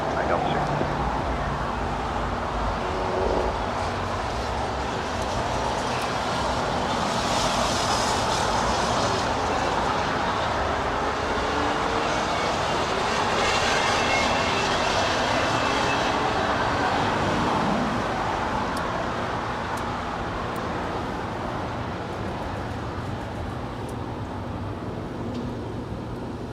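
A jet airliner departs from Los Angeles International Airport bound for Dubai, its broad engine roar swelling through the middle and slowly fading, with faint voices underneath.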